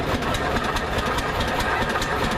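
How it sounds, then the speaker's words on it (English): A 1915 Case 30-60 gasoline tractor engine runs steadily at a parade, a loud, continuous mechanical chugging with rapid repeated knocks and no voices over it. "1915, they built this tractor, a 3060 case gas tractor"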